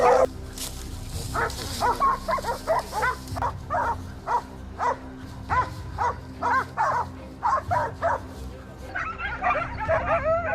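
Hunting dogs bark and yip in repeated bursts, several animals calling close by with short gaps between volleys and a few whimpering notes.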